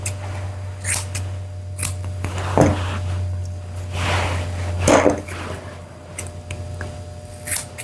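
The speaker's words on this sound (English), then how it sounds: "just trim her eyes with my slightly curved scissors." Slightly curved scissors trim the hair around a Yorkie's eyes, giving several close, crisp snips at irregular intervals over a steady low hum.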